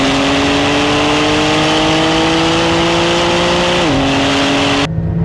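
High-performance cars, including a Porsche 911 Turbo S, launching in a drag race: a loud sustained engine roar with rising pitch that shifts gear near the end, then cuts off abruptly, with no talking.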